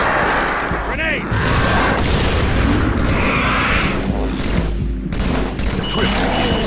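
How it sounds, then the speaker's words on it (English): Grenade and weapon blasts in the Halo 3 ODST Flood firefight mode boom in a dense, continuous barrage of loud explosions and gunfire. "Grenade!"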